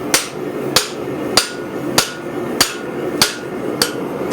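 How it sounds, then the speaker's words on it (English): A hammer strikes a leg vise in a blacksmith's workshop, seven loud, ringing metal blows at a steady, deliberate pace, close up with no talking. "let's hammer on it"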